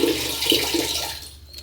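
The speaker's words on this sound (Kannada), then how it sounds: "ನೀರು ಸೌಂಡು." Water rushes close by in a steady, loud gush, like a flushing toilet, then fades away within about two seconds.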